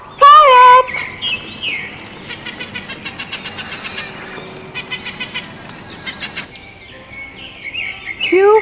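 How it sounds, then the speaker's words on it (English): A parrot calls in short bursts of whistles and squawks, with a rapid run of chirping notes in the middle, fairly loud and alone. "P for parrot."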